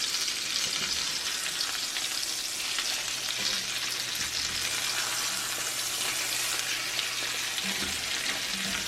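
Salisbury steak patties sizzle steadily in a cast iron pan as they are flipped, a constant loud crackling hiss with no voices.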